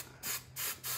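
Adhesive spray hisses from a can before glitter goes on, in three short, close bursts with brief gaps between them.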